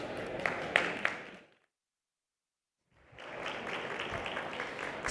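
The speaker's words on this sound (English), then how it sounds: "Ladies and gentlemen, let's give Ana a round of applause." An audience applauds a speaker at a business conference stage event, with the clapping heard for about a second and a half before a silent gap and then resuming steadily and moderately loud.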